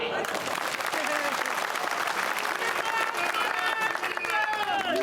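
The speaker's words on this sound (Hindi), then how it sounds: "बजाओ ताली।" Dense, continuous applause from a large crowd at a 2024 Lok Sabha election rally in Narwar, Gwalior, steady and loud throughout, with scattered voices and cheers mixed into the clapping.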